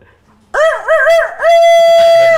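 A person imitating a rooster crowing: a loud, close vocal cock-a-doodle-doo with two quick rising-falling notes and a long held final note, given alone without other talk.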